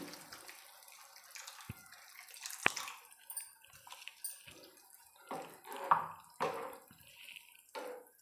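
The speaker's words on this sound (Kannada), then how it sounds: "ನನಗೆ ಇನ್ನೂ ಸ್ವಲ್ಪ ನೀರು ಬೇಕು ಅನಿಸ್ತಿದೆ ಹಾಕ್ತಾಯಿದ್ದೀನಿ" Water poured into a pan of egg curry on the stove, heard as soft, uneven splashing and trickling with a few sharp drips and clinks, moderately quiet and without talk.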